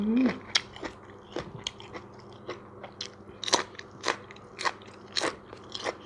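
Crispy fried pork ribs bitten and chewed at a Thai breakfast meal, giving loud, close, crackling crunches in a steady series of sharp bites.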